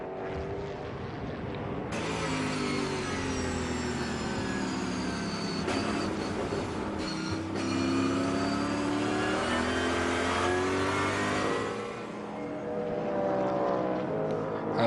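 A race car engine screams and revs hard during a SuperStars Series race at Vallelunga, its loud, continuous whine rising and falling through gear changes, heard alone without voices.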